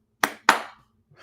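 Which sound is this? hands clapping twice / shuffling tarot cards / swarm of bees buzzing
hands clapping twice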